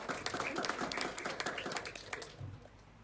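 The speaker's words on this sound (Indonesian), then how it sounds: "tepuk tangan buat kawan-kawan yang kuliah di Jogja" Audience applause at a talk on literacy in Indonesia, a quiet, fairly distant patter of clapping that thins out and fades away toward the end.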